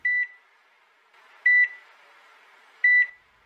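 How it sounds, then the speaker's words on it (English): A smoke detector chirps for a low battery, three short, clear electronic beeps spaced about a second and a half apart in a quiet room. "Where's that beeping sound coming from? Oh, yeah. Our smoke detectors."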